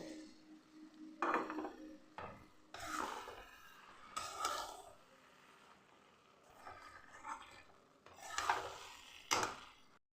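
Grated khoa kheer is stirred into carrot halwa in a wok, making soft scraping and knocking strokes in irregular bursts over a quiet background, close and faint.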